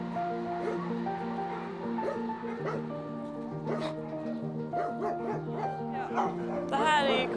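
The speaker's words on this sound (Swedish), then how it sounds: "överallt är hundar som är helt desperata liksom, och nästan skriker efter uppmärksamhet" Many desperate shelter dogs bark, yip and whimper at once in a dense, continuous chorus close by, with a person's voice talking over the din.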